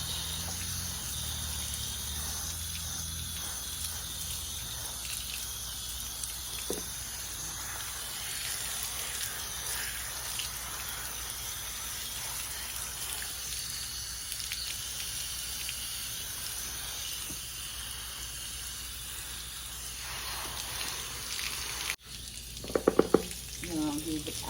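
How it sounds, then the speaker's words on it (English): Water sprays and splashes over the leaves of a staghorn fern growing in a basket, making a continuous hissing wash that runs almost the whole time and ends in a few brief clatters. "And we'll get the water and I'll water the leaves down."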